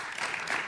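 A brief burst of applause rises in a city council chamber and keeps up without a break for its short length.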